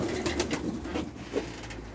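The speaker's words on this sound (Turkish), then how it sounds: "Ulan kuşlar nereye kayboldu ya?" Pigeons cooing nearby, a few soft, low, rolling coos against quiet background noise.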